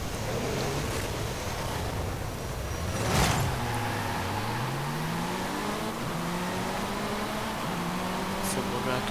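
Several cars engine-rev and launch off the start line in a Forza Horizon 5 A-Class race, revs climbing and shifting in rising, overlapping engine tones, with a brief burst near the three-second mark and steady road noise throughout.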